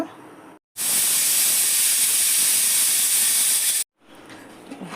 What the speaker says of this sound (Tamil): அஞ்சு விசில் விட்டு இறக்கியாச்சுங்க